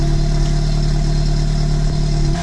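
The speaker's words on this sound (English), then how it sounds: "Rev it. So you can hear it. There's light revs right now." A Nissan Sentra SE-R Spec-V engine with newly installed headers runs loud and close with a steady, even hum at light revs, holding its pitch throughout.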